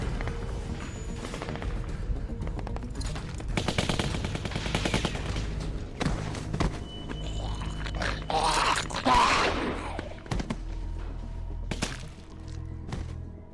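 AK rifle gunfire in The Walking Dead Telltale game, loud rapid automatic bursts and scattered shots over several seconds, with thuds, grunts and other in-game action sounds mixed in.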